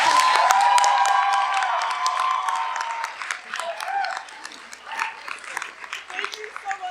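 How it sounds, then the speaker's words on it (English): An audience applauds and cheers at the end of an evening of teen-written short plays, loud clapping at first that thins into scattered claps and whoops as a voice talks over it. "Can we get one more round of applause for all the shows we've seen tonight?"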